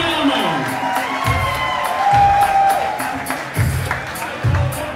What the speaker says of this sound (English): And also your applause for Mayra Hutterman from Team Eiffel, Suriname.